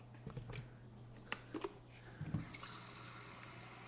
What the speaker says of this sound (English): Can you hear the tap?